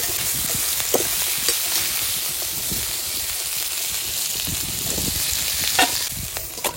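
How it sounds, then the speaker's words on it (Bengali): Crabs fry in hot oil in a pan, giving a steady, loud sizzle with intermittent stirring scrapes and bubbling bursts, close by and without talk. "এরকম করে সব কাঁকড়াগুলো ভেজে নেবো।"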